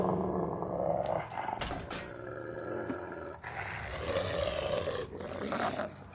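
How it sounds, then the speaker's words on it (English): A dog growls and snarls in a low, rough, continuous rumble with short harsher bursts, heard over a busy background. "There's the doggo."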